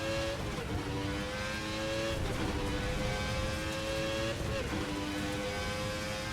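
A 1990 Formula 1 V10 race car in the Assetto Corsa racing game screams at high revs, with sweeping gear changes and pitch drops as it accelerates and shifts, loud and continuous without talk.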